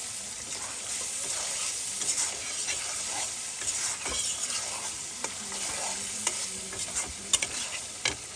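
Dried fish (shutki) stirred and frying with spices in a pan, a steady close sizzle broken by scraping spatula strokes and light clinks, continuous and without speech.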